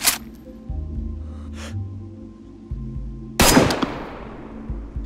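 Gunshots in the video game DayZ: a sharp report at the start and a louder, reverberant shot around the middle with a long decaying tail, over low rumbling ambience.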